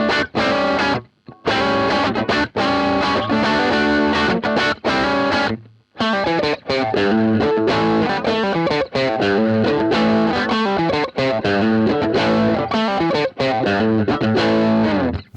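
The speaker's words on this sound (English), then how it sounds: "That sound was my Telecaster straight into the amp," Telecaster electric guitar played straight into a Supro Delta King 8 small low-wattage amp, overdriven by the amp itself: a gritty, distorted riff of choppy chords and notes with brief stops, loud and close, no voices.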